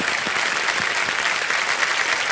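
A studio audience applauds a quiz show contestant who has just chosen to quit with his winnings, the dense clapping steady and loud throughout without any voice on top.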